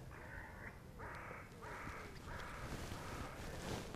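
Crows caw outdoors beside a lake in the evening, four or five harsh calls in a steady rhythm at moderate distance over quiet background ambience.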